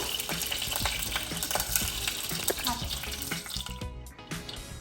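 Butter and flour (maida) cook in a pan for white sauce with a busy sizzle, and a spoon scrapes and stirs through it in quick strokes before the sound thins out at the end.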